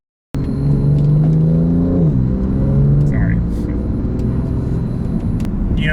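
A car engine drops in pitch after a downshift and then holds a low, steady rumble while driving, close and fairly loud, with an expensive car driven on the road.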